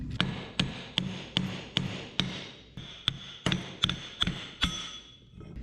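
Hammer striking rear end parts during a 1976 GMC rear end rebuild, about a dozen sharp metallic blows at a steady, slightly uneven pace, close and loud with ringing decay.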